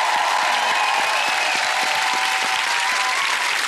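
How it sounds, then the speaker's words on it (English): Dense, steady applause from a game show studio audience fills the whole stretch, loud and close with no pause in the clapping. "Let's have a massive round of applause for Lisa"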